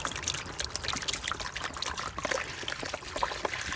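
Water trickles and splashes steadily into a container, a continuous close pouring sound with no voices.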